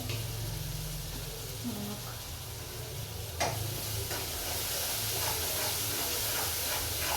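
Water splashes into a hot pan of drumstick vegetable curry with masala: a faint background hiss, then a sudden splash followed by louder, steady steaming and sizzling that carries on to the end.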